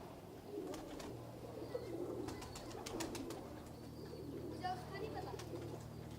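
Sialkoti pigeons coo in low, soft, repeated calls close by. A few chirps and faint voices of people talking run beneath them.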